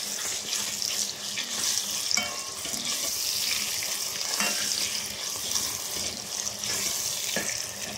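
Shrimp paste (bagoong alamang) sautéing in a pan after softened tomatoes, a steady close sizzle with continuous stirring and scraping.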